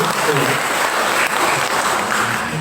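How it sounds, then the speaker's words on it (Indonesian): Loud, steady applause from an indoor audience at an evening talk, continuous and dense from start to finish. "Sekali tepuk tangan untuk Bapak Ibu semua."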